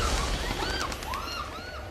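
Birds cooing in a horror film scene set on a hotel floor under construction, several short pigeon-like coos and calls layered over a dense, noisy soundtrack.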